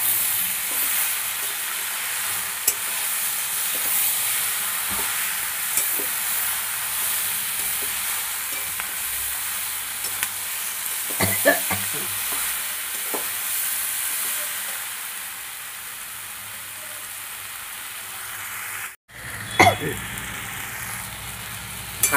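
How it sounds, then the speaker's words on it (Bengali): Jackfruit curry cooking with fat on low heat, a steady soft sizzle and hiss with occasional stirring scrapes, a brief clatter near the end, no talking. "অল্প আঁচে দিয়ে আমি একটু কষিয়ে নেব।"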